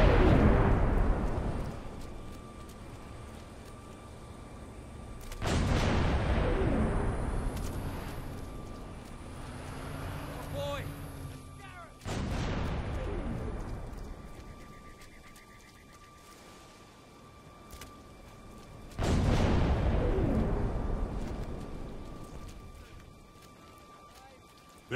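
Heavy weapon fire from a Covenant anti-aircraft gun in Halo 3 booms out in several loud bursts, each with a long rumbling decay, set against a steady combat background.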